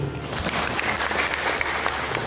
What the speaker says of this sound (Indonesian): Tepuk tangan untuk unsur.